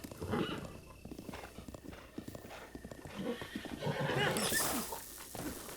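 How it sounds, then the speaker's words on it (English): Video game horse from Zelda: Breath of the Wild, with repeated clip-clop hooves and a loud whinny near the end. "If you cost me Zelda's horse, I'm going to be very upset."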